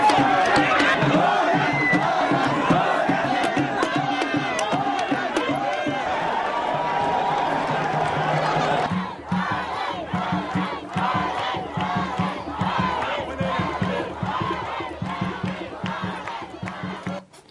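A dense crowd in Timbuktu, Mali, greets President Hollande with loud, continuous shouting and chanting, then breaks into rhythmic clapping and cries; voices close and overlapping throughout.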